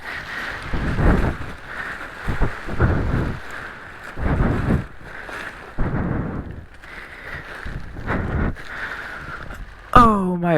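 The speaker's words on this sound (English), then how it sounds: "I'm getting a little bit of a wind now" Wind gusts buffet a paramotor pilot's microphone in flight, arriving as repeated rumbling bursts over a steady droning background.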